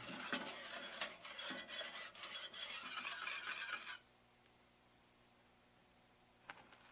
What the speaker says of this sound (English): As the mixture heats up, whisk frequently, making sure to get around the edges of the pot as well